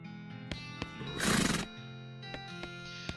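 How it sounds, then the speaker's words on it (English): A horse in the video game West of Loathing lets out a clear whinny amid looping game sounds and clicks, with a burst of noisy breath in the middle. "That's a lovely horse noise as well."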